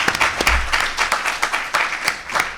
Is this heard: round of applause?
yes